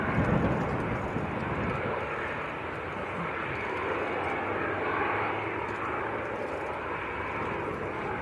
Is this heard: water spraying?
no